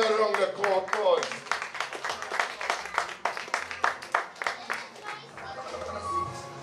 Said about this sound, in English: Could I have a lovely round of applause?